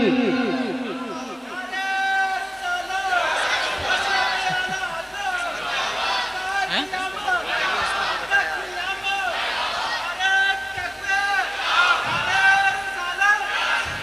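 A large crowd chants a slogan back in unison after a takbir call at a religious gathering, a dense roar of many voices rising and falling in repeated waves for the whole stretch.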